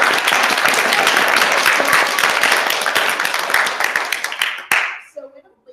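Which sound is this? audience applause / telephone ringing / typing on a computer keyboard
audience applause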